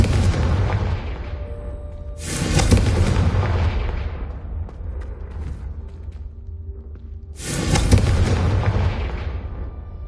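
Confringo fire spell blasts in the Hogwarts Legacy video game: two loud, broad explosive bursts a few seconds apart, each decaying slowly, over a steady low rumbling game soundscape.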